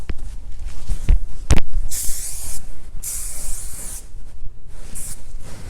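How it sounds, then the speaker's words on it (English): Kenra Shine Spray misted onto finished, curled hair in several short bursts, hissing close and loud, with a couple of knocks and handling sounds before the first spray. "Then I use this, sort of let it dry, and then I go in with the Shine Spray."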